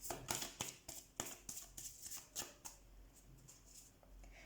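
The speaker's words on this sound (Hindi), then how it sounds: "तो सबसे पहले हम कार्ड से कर लेते शफल आपके लिए।" A deck of tarot cards is shuffled in quick repeated riffles, a rhythmic series of crisp flutters and snaps, close and fairly quiet.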